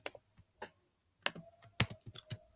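Bursts of keyboard typing, a few quick clusters of keystrokes separated by short pauses, close and fairly quiet, with no talking.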